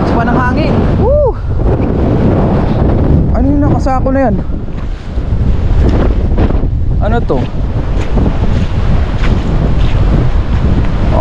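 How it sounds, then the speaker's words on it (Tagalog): Strong wind buffets the microphone in a constant roar, with a voice speaking over it close by. "Dahil sobrang lamig po ngayon. Lakas pa ng hangin."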